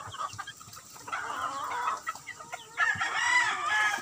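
Gamecock chickens in a derby fowl coop cluck and call close by, with overlapping bursts and a louder stretch of vocalising toward the end, and no speech.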